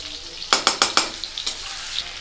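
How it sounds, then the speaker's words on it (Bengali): Spiced paste of ground potol, poppy seed, mustard and green chilli dropped into a hot frying pan with nigella seeds, giving four quick sizzling scrape-and-stir bursts followed by softer scattered frying crackle, close and without talk. "পটল, পোস্ত, সর্ষে এবং কাঁচা লঙ্কা বেটে নিয়েছি, এটা দিয়ে দেব।"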